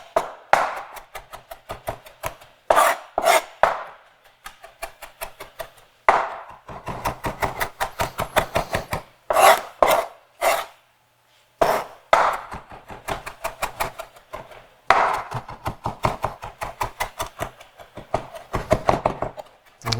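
A chef's knife rocks through cilantro on a cutting board in loud, fast bursts of sharp chopping taps. Short pauses separate the runs, and no one speaks.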